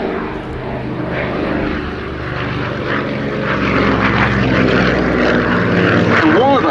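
Propeller engines of an Avro Anson aircraft drone steadily at Duxford, loud and continuous with a gently shifting pitch throughout.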